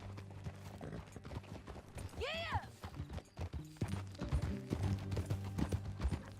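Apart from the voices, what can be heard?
horse hooves galloping in video game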